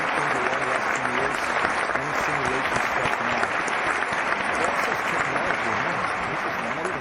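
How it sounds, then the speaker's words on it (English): Steady crowd applause plays during a Friday live stream, a loud, continuous wall of clapping with a faint voice beneath it. "An applause for everyone who's joining me here on this"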